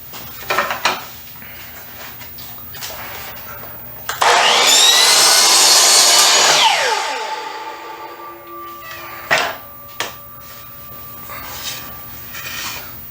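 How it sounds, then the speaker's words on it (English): A miter saw set at 45 degrees cuts baseboard trim for an inside corner. The blade spins up loudly, makes one roughly three-second cut and winds down, with quieter handling knocks and clicks before and after. "I have my miter saw set at 45 degrees and we're going to cut it just like an inside corner"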